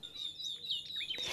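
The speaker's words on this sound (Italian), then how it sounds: "cerca di attrarre la femmina con il suo inconfondibile canto melodioso" A nightingale sings from hedgerow brambles, a quiet, thin run of sustained whistled notes with quick rising and falling chirps, heard alone against faint background.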